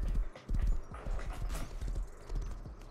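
Horse hooves clip-clop in the Rust survival game, a quick uneven run of close, loud hoofbeats on hard ground, alone with no talk.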